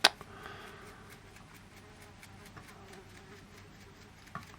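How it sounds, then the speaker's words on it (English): A wasp buzzes faintly indoors in a room where acrylic painting is underway, a thin persistent hum with soft ticks and a sharper tap near the start and end. "I got a wasp in here now."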